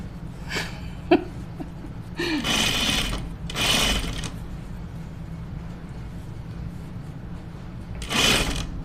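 A sewing machine stitches a seam on a stretchy dress in three short bursts of rapid, close mechanical whirring, separated by quiet pauses with faint handling noises.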